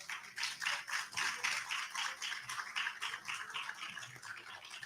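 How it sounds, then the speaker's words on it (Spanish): A room full of people applauds steadily, a dense wash of clapping that holds at a fairly even level throughout. "recibámoslos con un fuerte aplauso"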